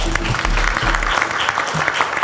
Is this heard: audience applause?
yes